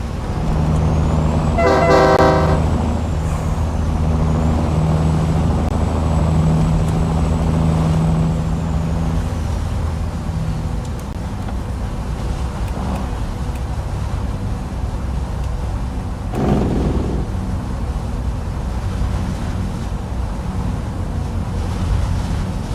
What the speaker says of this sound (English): I like this truck. I love the sound.